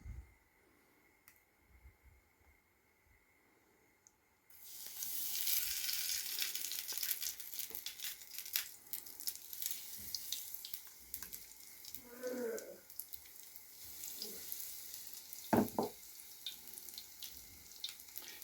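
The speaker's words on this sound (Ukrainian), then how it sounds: "Вмакую в клярі і кидаю на сковорідку." Hot oil sizzles steadily in a pan after a quiet start, with occasional clatters and scrapes as pieces of battered cauliflower go in.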